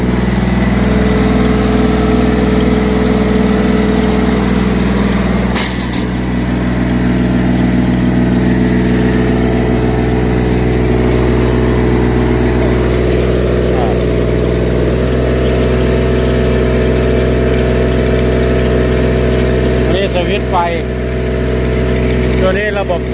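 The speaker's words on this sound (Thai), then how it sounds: "หน้าเหล็กหลังยาง เอวอ่อนลองสตาร์ทดู" A Sakai road roller with steel front drum, rubber rear tires and an Isuzu diesel engine idles just after starting, a steady close-up rumble running unbroken throughout while someone talks over it.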